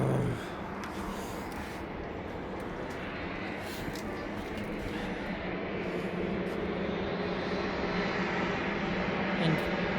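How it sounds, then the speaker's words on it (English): A plane lands near a parked Boeing 747, a sustained roaring engine rumble that stays loud and steady throughout, with faint talk beneath. "And planes are landing."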